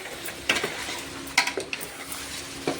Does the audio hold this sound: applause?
no